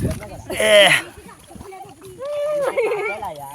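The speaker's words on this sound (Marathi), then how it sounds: "ही आमची पुढची पिढी आहे जी पाण्यामध्ये डुबकी घेत आहे" Children diving into a river make one sharp, brief splash near the start, followed by children's and adults' voices talking over quiet water.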